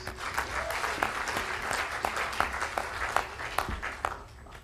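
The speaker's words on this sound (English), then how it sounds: "Let's give them a big round of applause, please" Sustained audience applause fills a university convocation ceremony for international students, a dense, even wash of many hands that thins slightly toward the end, with no speech over it.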